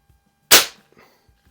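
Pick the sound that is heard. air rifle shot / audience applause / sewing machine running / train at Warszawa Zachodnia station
air rifle shot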